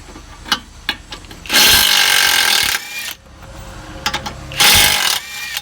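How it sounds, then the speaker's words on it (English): Pneumatic impact wrench removing suspension bolts on a 2013 Kia Optima during a ball joint replacement, two loud buzzing bursts between clicks and clanks of tools, close up. "We're going to take out these 3 bolts."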